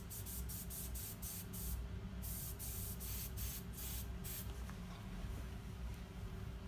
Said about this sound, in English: Let me spray that real quick in the trash can.